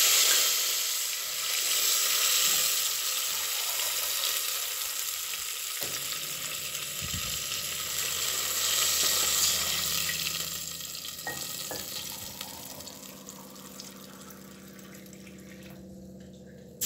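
Water poured into hot oil with turmeric, a loud broad hissing sizzle that rises at once and slowly settles to a quieter bubbling simmer over several seconds.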